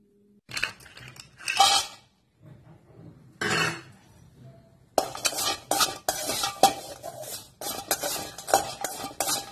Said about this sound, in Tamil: கடாயில் வெங்காயம் சேர்த்து கலர் மாறினதும் வேற பாத்திரத்தில் மாற்றிக்கலாம்.